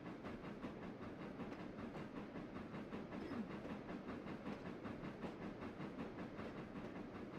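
Locomotive rolling along rails in a video game, a steady rumbling ride with faint rhythmic clicking and a soft hiss, even and continuous throughout.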